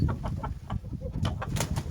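A foreign-blood Indian rooster held in hand gives short clucking and crowing bursts that repeat across two seconds, close by over a steady low background.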